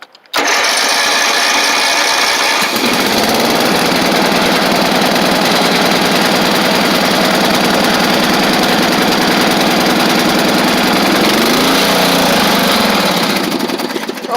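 Tractor engine cold starting on choke, a loud near cranking that catches into a rough, steady chugging run with a rhythmic knock, holding for over ten seconds before a brief rev and fade.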